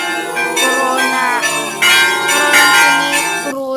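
Church bells ring out loud and close in overlapping, sustained peals at a religious feast honoring Santa Rita, their clanging tones layered continuously throughout.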